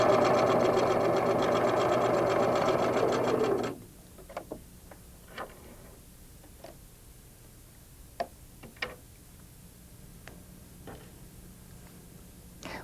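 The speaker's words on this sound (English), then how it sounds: "Lower your needle into the fabric, back tack, and continue sewing." A Singer sewing machine straight-stitches quilt pieces with a quarter-inch seam, a loud, close, steady mechanical whir for the first few seconds, then stops, leaving scattered light clicks and handling taps in a quiet room.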